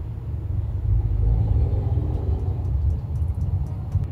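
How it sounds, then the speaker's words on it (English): An airplane passes overhead at a roadside truck-camping stop near saltwater fishing spots, a steady low rumble that swells and holds loudly for about four seconds with no one speaking. "There's an airplane flying over."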